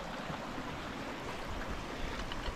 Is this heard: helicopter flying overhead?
no